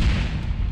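A single mortar shell explodes in a combat video game, a short, deep, rumbling boom that fills the moment with no voices present.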